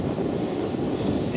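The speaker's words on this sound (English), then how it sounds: "this morning the wind was really going at it." Strong wind gusting steadily against an outdoor microphone, a continuous loud rushing roar with buffeting low rumble that persists throughout without pause.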